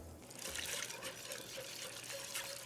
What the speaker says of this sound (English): now I'm gonna add the milk.